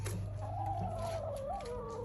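Backyard chickens loose in a garden bed give a close, continuous low clucking and gobbling chatter with a steady hum underneath.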